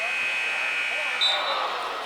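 A basketball game buzzer sounds at halftime in a school gym, a loud flat electronic tone heard briefly amid crowd and arena noise.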